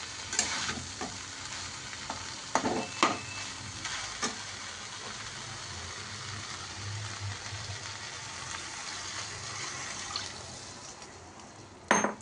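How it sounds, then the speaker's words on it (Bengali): Beans frying in a pan with water added, a steady soft sizzle and bubbling with occasional stirring clinks and scrapes, fairly quiet and continuous, with a louder clatter near the end. "এবারে আমি এতে জল দিয়ে দিচ্ছি।"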